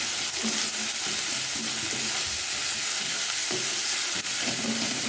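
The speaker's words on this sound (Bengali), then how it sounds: "পেঁয়াজটা, রসুন, কাঁচা লঙ্কা সব লাল লাল করে ভাজা হয়ে গেছে" Onion, garlic and green chili fry in hot oil in a pan, giving a steady, dense sizzle with soft stirring scrapes repeating every second or so, close and continuous without talk.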